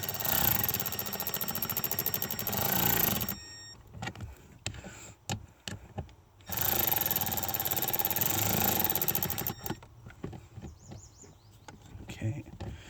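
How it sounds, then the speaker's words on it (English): A cordless power tool runs in two loud, sustained bursts, lightly driving screws into an HVAC mode door actuator on a 2010 Ford F-150 Lariat, with quieter clicks and handling noises in between. "All right, loud power tool again."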